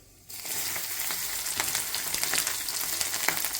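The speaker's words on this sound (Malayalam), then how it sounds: "നമ്മൾ അടുപ്പിൽ ചട്ടി വെച്ച് നല്ലെണ്ണ ഒഴിച്ച് അതിൽ കടുക് പൊട്ടിച്ച് ഇനി നമ്മൾ വെളുത്തുള്ളി ഇടാൻ പോവാണ്" Garlic dropped into hot sesame oil in a pan where mustard seeds have already popped, for a hog plum pickle, bursting into a loud, continuous close sizzle after a brief quiet start, with no talk.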